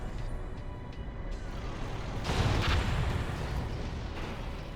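V4 rocket artillery fire in Red Alert 3, a heavy booming impact rumble swelling midway over a dense background of battle noise, moderately loud.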